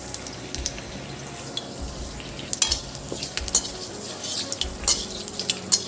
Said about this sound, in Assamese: তেলখিনি গৰম হৈছে, জলকীয়া, পাঁচফোৰণ আৰু তেজপাত দি লৈছোঁ।